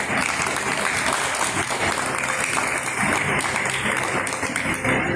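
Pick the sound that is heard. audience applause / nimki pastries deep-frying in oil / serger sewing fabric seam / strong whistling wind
audience applause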